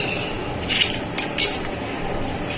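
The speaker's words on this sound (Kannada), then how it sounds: "ನೋಡಿ ಇದೇ ಥರ ಇವನ್ನೆಲ್ಲವನ್ನು ಕಟ್ ಮಾಡ್ತಾಯಿರ್ತೀನಿ" Metal knife taps and clinks against a plate or board while green chilies are cut, a few sharper ticks standing out over a steady background hiss, with no voices.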